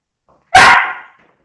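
A small dog lets out one sharp, close bark indoors, loud and brief against an otherwise quiet room.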